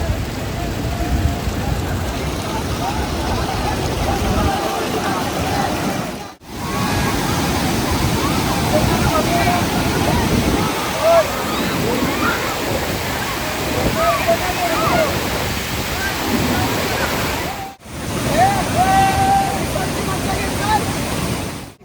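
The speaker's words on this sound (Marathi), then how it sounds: "आता इकडनं जरा जवळचा व्ह्यू बघा आणि पाण्याला फोर्स देखील बघा." Rushing water at Vandre lake roars loud and close in a continuous broadband wash, briefly cutting out twice, while people talk over it at times.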